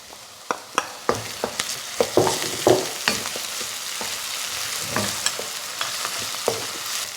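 Chili stir-frying in a pan for fried rice, with a spatula scraping and clanking in irregular bursts over a soft, continuous sizzle, close and fairly quiet.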